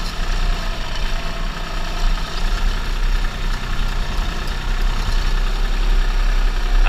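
A New Holland TC30 compact tractor pulling a manure spreader labors up a big hill, its engine a steady, close, continuous drone with a rumbling low end and no gaps.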